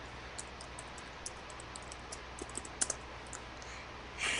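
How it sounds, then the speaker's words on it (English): Typing on a computer keyboard, light scattered key clicks at an irregular pace, quiet and close over a faint steady hum, with a louder burst of noise at the end. "And I'm typing that to you now."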